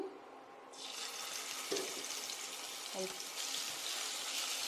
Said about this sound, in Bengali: তেলটা একদম গরম হয়ে গিয়েছে গরম হয়ে গেছে এখন আমি রসুন দিচ্ছি